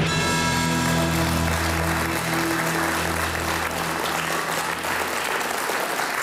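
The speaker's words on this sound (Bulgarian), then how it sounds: "аплодисментите, които получаваш от страна на публиката, са напълно и безкрайно заслужени" A studio audience at a reality TV show applauds, a dense wash of clapping that continues over sustained music tones, moderately loud throughout.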